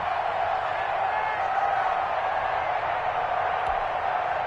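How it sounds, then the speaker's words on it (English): Steady crowd roar from a stadium in an EA Sports American football video game, building ahead of a big third down, a continuous dense wash of cheering at a constant level without any breaks. "The crowd getting into it as we come up on a big 3rd down."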